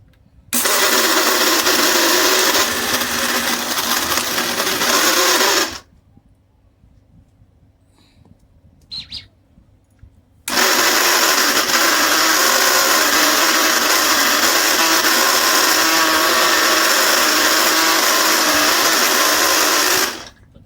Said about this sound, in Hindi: ये मैंने सारे ड्राई फ्रूट जो सबको पीस रही हूँ।